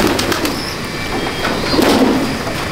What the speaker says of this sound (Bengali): এরকম 50-60টা মতো পায়রা আছে এখানে